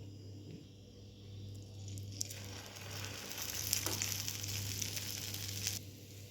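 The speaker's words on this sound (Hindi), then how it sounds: "इस तरह से अब इसको हम फ्राई करेंगे।" Medu vada fry in hot oil with a steady, close sizzle and crackle that swells midway, alongside a few light utensil clinks and a low constant hum.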